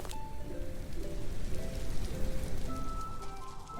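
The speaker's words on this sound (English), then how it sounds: "It started to rain." Rain patters on a surface with a soft, steady hiss for a few seconds, fairly faint, and no voices are heard over it.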